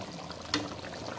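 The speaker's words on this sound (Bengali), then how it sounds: "এই তেহারির মাংসটা ঢেলে দেবো।" Cooked beef tehari meat poured from a pan onto rice inside a rice cooker: a brief wet slide and plop midway through, over a quiet background hiss with no voices.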